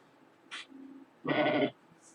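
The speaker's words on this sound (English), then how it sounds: "Oh, I hear my sheep!" Sheep bleat inside a video game: a short, faint bleat, then a longer, louder bleat lasting about half a second, with a brief high chirp after it, all over quiet background hiss.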